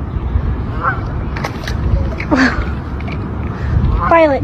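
A duck honking, with a few short, nasal honks spaced across a few seconds, close and moderately loud over a noisy background.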